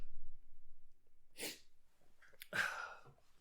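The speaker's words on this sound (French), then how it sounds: "Là, je me suis entendu tousser. Éternuer, pardon." A single sneeze, close and fairly loud, preceded by a quick inhale and a softer first burst, in an otherwise quiet room.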